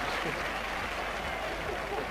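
Stadium crowd applause in the FIFA 15 football game, a dense steady patter of clapping filling the whole moment at moderate level, with someone talking over it.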